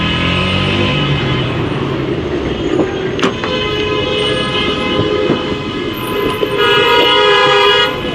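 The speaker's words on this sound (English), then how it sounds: "The honking is crazy." Loud, dense vehicle horns honking continuously in traffic at a roadblock, long blaring toots overlapping with steady road noise and a brief sharper blast midway, no voices.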